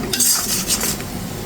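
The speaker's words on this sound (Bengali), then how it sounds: "এখন আমি সব কিছু দিয়ে কষিয়ে নিচ্ছি।" Spices sautéing with hilsa fish and taro stolons in a pan, a short burst of close spatula scraping and stirring over a soft sizzle.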